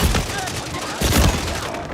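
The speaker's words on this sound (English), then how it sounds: "Flashbangs, you fucking homo." Flashbang grenades going off in the Warzone video game: loud, dense bursts of blasts and cracks packed into two seconds, with a second heavy cluster midway.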